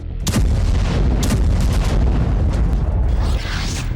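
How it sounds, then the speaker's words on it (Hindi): Heavy booming blasts from missile strikes at Zhuliany airport in Kyiv, several loud explosions in quick succession with rumbling aftermath, close and dominant. "रूस ने झुलियानी एयरपोर्ट पर एक के बाद एक 7 धमाके किए।"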